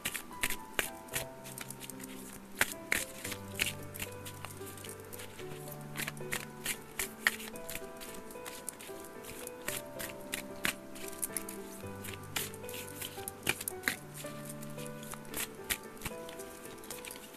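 Oracle and tarot cards being shuffled in a long steady run of soft riffling patter and light taps, close and fairly quiet, with faint background music and no talking.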